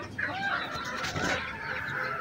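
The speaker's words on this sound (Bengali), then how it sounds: "সেব্রাইট খুবই ছোট আকৃতির মুরগি।" Sebright chickens, a very small bantam breed, clucking softly with a short vocal call over faint farmyard background; quiet and close, no speech.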